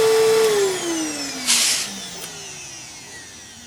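A Dyson vacuum cleaner motor winds down, its whine falling steadily in pitch, with a short burst of airy noise partway through.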